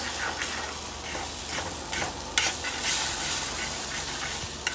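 Scrambled eggs cook in a hot pan with a dense, steady sizzle and hiss while chopsticks stir and tap against the pan in light, irregular clicks.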